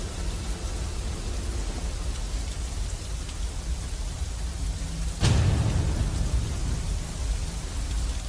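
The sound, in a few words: rain and thunder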